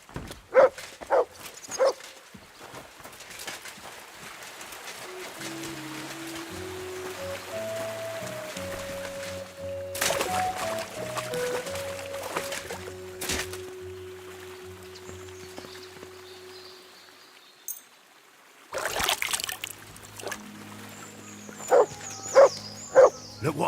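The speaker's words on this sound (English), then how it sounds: "You silly doggy." A dog in the medieval open-world game Kingdom Come: Deliverance II barks in short bursts near the start and again toward the end, over a quiet in-game backdrop with soft music tones and light rain-like ambience.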